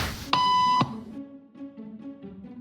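A single electronic beep, short and clear, sounds alone over a quiet room and fades into faint background murmur.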